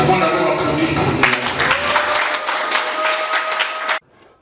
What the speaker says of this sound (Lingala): Nous pouvons d'abord applaudir pour nous.